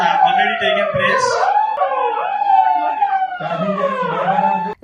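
A loud wailing siren sounds during a civil defence mock drill, its rising and falling tone sweeping continuously and close by throughout, filling the whole stretch with only a brief dip at the very end.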